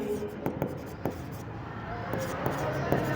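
Marker or chalk strokes on a board in an accounting class, a series of short scratchy writing sounds at irregular intervals over low room noise, with a voice speaking now and then.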